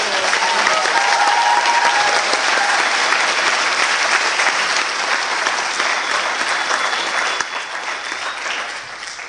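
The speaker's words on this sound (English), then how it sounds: "So a round of applause." Audience at a veterinary school White Coat Ceremony applauds the organising committee, a broad, steady wash of clapping from many hands that gradually thins toward the end.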